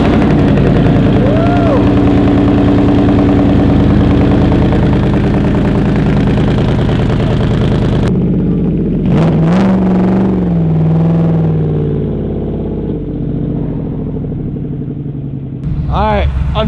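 A 1967 pro-touring Camaro firing up from cold, loud engine running and revving with pitch rising and falling, brief shutoff and restart, with people talking over it.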